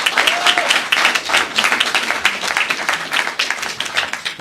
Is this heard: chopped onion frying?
no